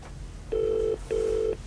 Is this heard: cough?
no